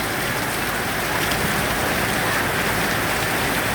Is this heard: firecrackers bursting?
no